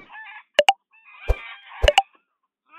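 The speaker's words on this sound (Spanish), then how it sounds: "Y todos los patos chillando." Ducks squawk and honk in short, sharp bursts close by, several calls in quick pairs separated by brief gaps, loud against an otherwise quiet background.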